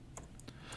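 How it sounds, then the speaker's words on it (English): A few faint, quick keystrokes on a computer keyboard, roughly five light taps in under a second against a quiet background. "It's easier to type in the formula bar."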